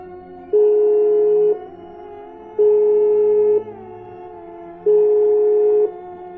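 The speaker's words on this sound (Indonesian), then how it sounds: "Suara telepon itu terus berdering," A telephone ringback tone repeats three times, each steady tone lasting about a second with pauses between, heard clearly over a faint hum; the call goes unanswered.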